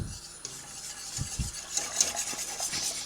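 Spoon stirring a chocolate pudding layer in a pot for a cat's-tongue biscuit cake, with soft scraping and a few low knocks against the pot, quiet and close, no talking.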